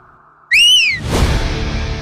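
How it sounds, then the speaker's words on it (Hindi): A single sharp whistle blast, loud and close, rising then falling, followed by a burst of broadband noise. "सीटी क्यों बजा रहा है बे?"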